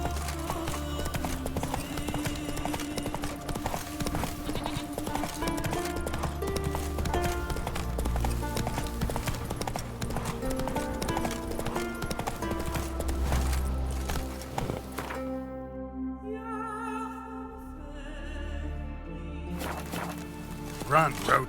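Hoofbeats of Roach, the horse in The Witcher 3, sound as a rapid rhythmic galloping clatter under a busy game soundscape with music and voices, and a whinny near the end.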